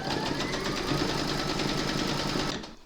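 An embroidery machine stitches a quilting round on an in-the-hoop panty liner, a fast, even mechanical chatter that runs close and steady for nearly three seconds before stopping.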